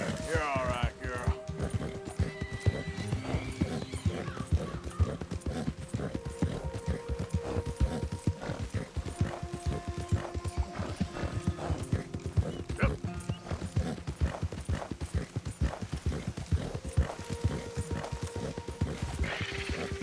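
Horse hooves clip-clop steadily in Red Dead Redemption 2 gameplay, with occasional neighs and whinnies over a continuous busy game soundscape, while a voice talks throughout.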